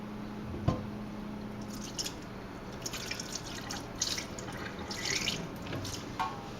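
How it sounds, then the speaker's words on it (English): Liquid being decanted off settled yeast on a pilsner brew day, giving soft drips and wet squishy splashes at close range, a few louder spills among quieter trickling, with no talking. "Decant off a touch more."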